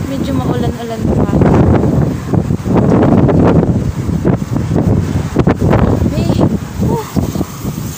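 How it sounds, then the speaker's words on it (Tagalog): Strong typhoon wind from Typhoon Hagibis in Japan, with light rain, roars in loud, continuous gusts that batter the microphone throughout with only brief dips. "Sobrang lakas ng hangin."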